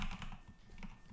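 Computer keyboard typing during command-line setup of a Cardano relay node, a short run of soft, quiet key clicks in uneven rhythm, heard alone without speech.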